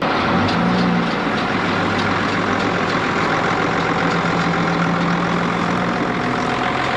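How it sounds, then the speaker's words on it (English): A farm pickup truck pulls away, its steady low engine rumble continuing without a break over the whole stretch under broadband rural background noise. "there goes my sister in my truck"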